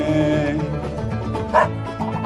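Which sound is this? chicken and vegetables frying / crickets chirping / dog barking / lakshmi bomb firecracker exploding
dog barking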